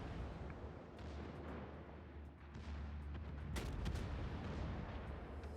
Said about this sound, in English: He's shooting AP, trying to find the citadel on the Nevsky